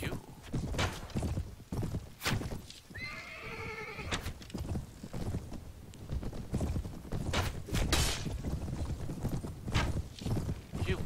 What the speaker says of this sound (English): I'm riding a Noldor horse.